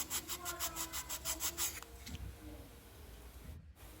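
Rhythmic rasping strokes of sandpaper rubbing on a wooden hand-launch glider part, about a dozen quick passes, then softer scraping and handling noises.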